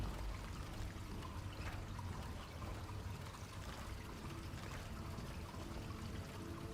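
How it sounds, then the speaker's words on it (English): Steady rushing water flowing through pipes beneath a lake in Skyrim (Lorerim), a continuous broadband wash with a low rumble, constant in level throughout, with no talk. "I can hear water rushing through these pipes."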